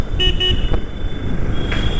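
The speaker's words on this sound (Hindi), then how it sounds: "हॉर्न बजाते हुए राइट लेंगे।" A Hero Xpulse 200 4V motorcycle horn gives two short beeps, then another brief honk later, over a steady road and engine rumble on a highway.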